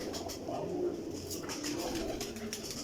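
Breeding pigeons kept in pairs in a loft coo steadily in a dense, low murmur, with several birds overlapping close by and no clear breaks.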